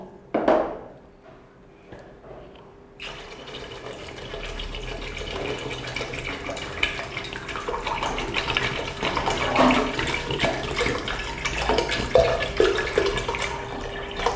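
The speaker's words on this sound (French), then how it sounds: "Et maintenant, nous allons mettre de l'eau. Pour 1 kg de poisson, nous avons besoin de 2 litres d'eau." Water running and pouring into a cooking pot for fish, a steady splashing stream that starts after a few quiet clicks and continues at moderate level to the end.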